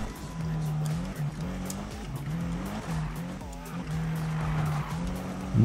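A race car in Need for Speed on PS4 roars steadily with a shifting engine pitch, punctuated by repeated tire squeals and skids, with a voice at times.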